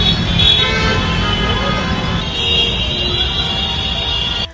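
Heavy traffic jam in Solapur, a loud near wash of engines and road noise with sustained car horn blasts layered on top, one horn holding then another taking over.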